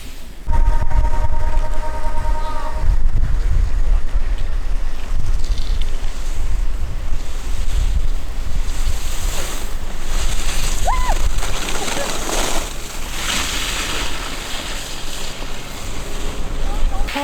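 Strong wind roars across a ski slope, buffeting the microphone in loud continuous gusts, with a voice speaking briefly over it.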